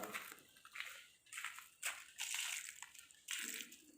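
Liquid compost slurry poured over bitter gourd plants in a garden, splashing and sloshing onto soil and leaves in several separate pours, close and moderately quiet.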